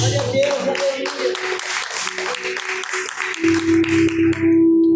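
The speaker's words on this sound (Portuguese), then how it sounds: "Pode assentar as palmas bem alegre para Jesus." A church congregation clapping joyfully during an evening worship service, brisk rhythmic handclaps under a preacher's voice and music, swelling louder near the end.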